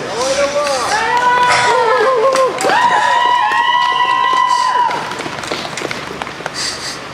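Audience applause and cheering at a poetry reading, loud sustained clapping from a crowd with voices calling over it, fading after about five seconds.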